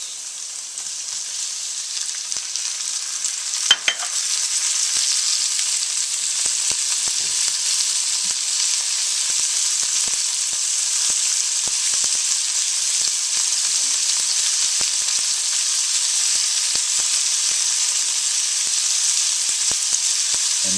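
Fresh tomatoes hit a hot frying pan with a loud, steady sizzle that holds for about twenty seconds, with a brief clatter near the start and no voices.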